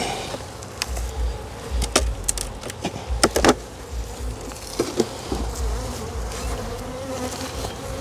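Honey bees swarm around a hive in a dense, steady buzz close by, with individual insects droning past and a few soft knocks underneath.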